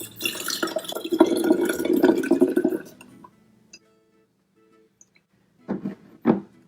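Hydrogen peroxide is poured into a bottle, a sustained gurgling, splashing pour for about three seconds, then quiet with a few faint drips and two louder glassy knocks near the end.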